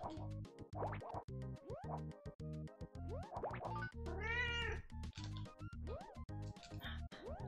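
A cartoon cat meows repeatedly in the SNES game Daze Before Christmas, short rising and falling mews heard clearly over busy, bouncy game music and sound effects.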